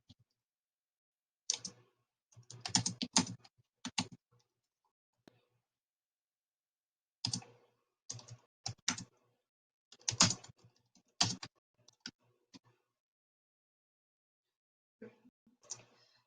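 Bursts of clicking keystrokes on a computer keyboard come in short irregular runs separated by pauses, close and fairly quiet, with no voices.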